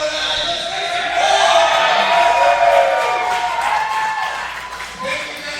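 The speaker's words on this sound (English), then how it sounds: "Now fans never disappoint with how loud they are." A wrestling crowd at an indoor show roars and cheers in a loud, sustained wash of noise, with scattered applause and a commentator talking over it.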